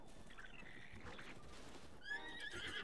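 A horse in the video game Breath of the Wild gives a loud, clear whinny near the end, a descending series of harmonic calls. Earlier comes a softer horse sound over a steady game background.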